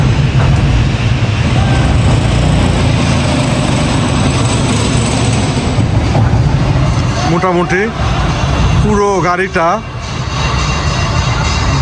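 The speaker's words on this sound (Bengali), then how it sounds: "এখন এই ক্রেনটা এটা কিন্তু অটোমেটিক কোনো ইঞ্জিন ছাড়া ইঞ্জিন ছাড়া যে একটা বগি উঠতে পারে" An automatic crane lifts a railway carriage in the Saidpur train workshop, producing a loud, continuous mechanical roar and grinding that fills the space. Someone speaks briefly over the noise twice.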